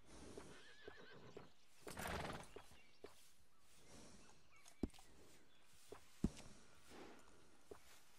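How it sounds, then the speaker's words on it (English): A horse in the Western game Red Dead Redemption 2 whinnies loudly and shakily while being groomed, followed by scattered hoof clops and soft shuffling thuds at moderate distance. "Little fine grooming always sets off a horse."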